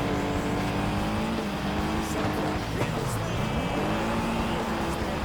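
A car drifting in the FlatOut: Ultimate Carnage racing game, its engine droning steadily with a long tire squeal, loud and continuous, while someone talks over it.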